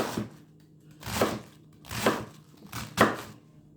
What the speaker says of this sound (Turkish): Böyle ufak ufak doğrayacağım.